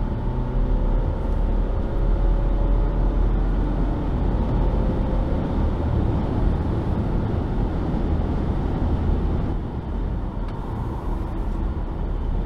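A Volvo XC60 accelerating and downshifting, heard from inside as a loud, steady low engine and road rumble with a rising drone, easing slightly near the end; no talking.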